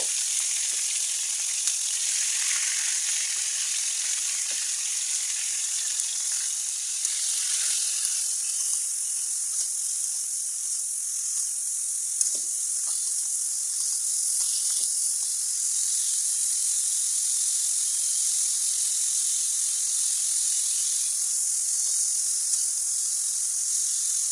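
Cauliflower and potatoes sizzle in a pan with salt and turmeric, a steady, even frying hiss that runs the whole time, with a few faint stirring taps and no talking.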